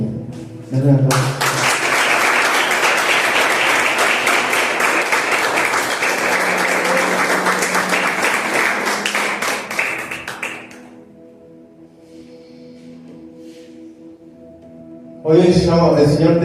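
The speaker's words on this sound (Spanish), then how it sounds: "Dale un aplauso, Señor." A church congregation applauds loudly during a worship service, about ten seconds of dense, sustained clapping that fades out. A voice speaks briefly afterward.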